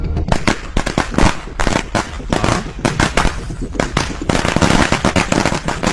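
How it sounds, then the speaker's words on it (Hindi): Firecrackers burst in a rapid, loud string of cracks and pops in a neighborhood, crackling almost continuously up close. "अरे एरिया में पटाखा कौन फोड़ रहे रे?"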